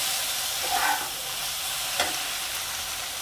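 Small mourala fish being stir-fried in a pan, giving a dense, steady sizzle and hiss close up, with a couple of soft stirring scrapes and no voices.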